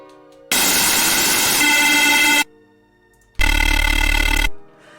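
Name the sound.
layered synth waves through distortion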